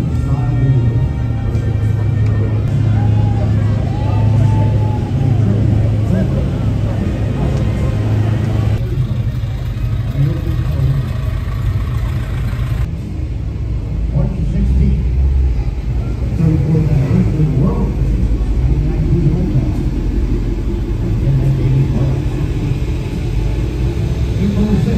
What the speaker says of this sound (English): So all the cars are now doing a special annual parade driving around the Old Town.